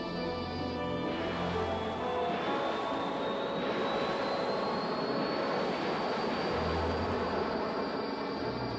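Heavy multi-engine drone of B-29 bombers over Korea, a steady dense roar filling the whole stretch with a faint rising whine, no voices.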